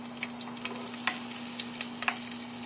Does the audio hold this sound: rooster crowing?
no